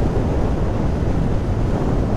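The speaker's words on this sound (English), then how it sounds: "Obviously you got the wind all in your chest, there's no fairing on the front here." Heavy, steady wind rush buffeting the microphone while riding a 2022 BMW R1250R SE motorcycle without a front fairing, a loud low roar with no pauses.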